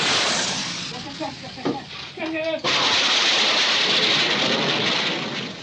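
Bombs from an airstrike slam into a Royal Air Force airfield, a dense roaring wall of blasts and rumble, briefly interrupted midway by a voice and a sirenlike tone before the heavy continuous roar returns at full loudness.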